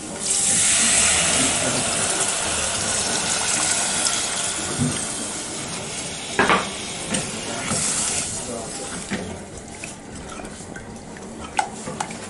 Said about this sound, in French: Je vais mouiller avec le lait de coco.